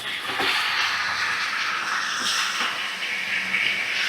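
Chicken sizzles steadily in a pan of fried spices, onion and garlic over a medium flame, a continuous close hiss with no talking.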